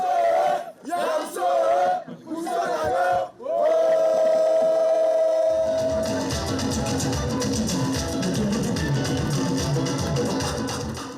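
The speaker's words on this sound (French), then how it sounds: "Les habitants, eux, peuvent applaudir, chanter et danser." At a chief's enthronement in the village of Ayo Obou (PK61), villagers shout and sing in loud ululating bursts, then a long sustained cry gives way to dense, continuous crowd cheering and noise.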